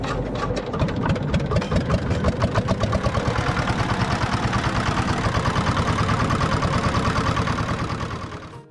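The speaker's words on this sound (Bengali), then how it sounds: "এই শ্যালো মেশিন চালিত নৌকায় করে ফলিমারি চরে যাব আমরা।" Shallow pump engine powering a country boat on the Dharla river, running close and loud with a rapid, steady mechanical chugging that holds evenly before fading at the end.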